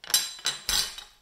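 A knife cuts through a navel orange in three short, crisp chops spaced evenly apart, each a sharp strike with a soft wet tail.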